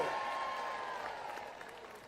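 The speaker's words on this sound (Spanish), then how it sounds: "Um aplauso para Mr. Saab." Brief, fairly quiet applause and crowd noise from an audience at a live outdoor concert, fading gradually over a couple of seconds.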